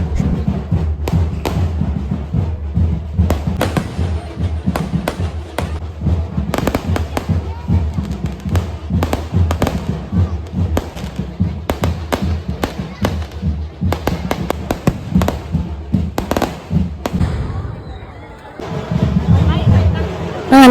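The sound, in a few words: fireworks exploding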